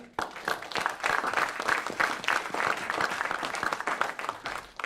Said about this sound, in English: I just want to give a round of applause to you all sitting here.